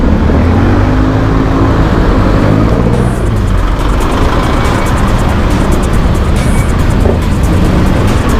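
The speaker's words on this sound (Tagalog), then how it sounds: "Medyo traffic." Road traffic heard while riding a motorcycle in slow traffic: a loud, steady roar of engines and wind noise, with rumbling vehicles throughout and a couple of brief higher whines from passing vehicles.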